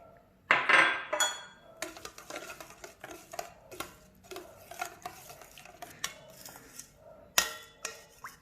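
A utensil stirs burger bun dough with oil in a bowl, making repeated soft scraping and clinking strokes with irregular rhythm and a few sharper knocks against the bowl, close and alone.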